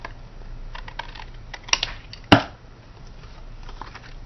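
Paper trimmer blade slicing off the bottom edge of a handmade greeting card, a few light clicks followed by one sharp crisp cut, close and alone.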